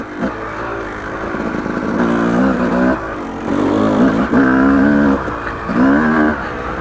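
Yamaha YZ250 two-stroke dirt bike lugging uphill in third gear off-road, a loud close engine note rising and falling in several low, steady pulls without rider talk.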